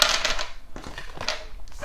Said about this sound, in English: I'm going to give it another quick little shuffle.